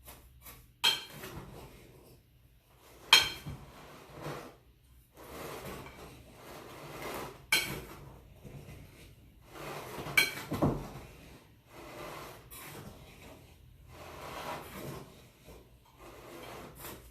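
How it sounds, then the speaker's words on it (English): Homemade powder laundry detergent with borax being stirred, giving intermittent scraping and rubbing strokes with soft knocks, close and fairly quiet, spaced irregularly with pauses between. "Just mixing, just stirring"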